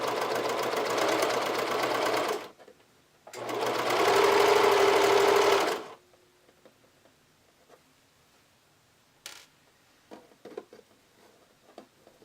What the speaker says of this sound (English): I'm using a very narrow zigzag stitch to attach the lace to the fabric